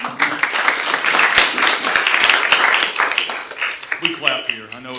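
Audience applause at a city council meeting fills the room for about four seconds, dense and fairly loud, then thins as a voice starts speaking near the end.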